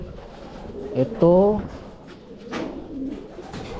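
A racing pigeon coos nearby in a short rolling burst, faint under someone speaking, with other low bird sounds and handling noise around it.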